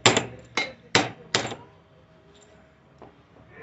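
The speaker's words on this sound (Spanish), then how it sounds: "vamos a dar unos golpes ligeros sobre el martillo" Four sharp hammer taps in quick succession on a steering or suspension part of a 2007–2012 Chevrolet Captiva, close and distinct, followed by a fainter knock after a pause.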